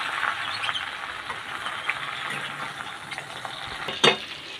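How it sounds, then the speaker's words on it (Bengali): Spices fry in a pan while being stirred, a steady sizzle with intermittent scraping strokes and a sharp metallic clack near the end, close and without speech. "আমি সব দিয়ে ভালো করে নেড়ে নিচ্ছি"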